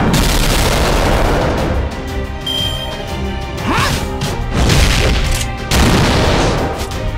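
Heavy booming impacts and crashing blasts from a sniper attack in the mobile game Fate/Grand Order, several loud explosive hits spread across the stretch with dense layered effects.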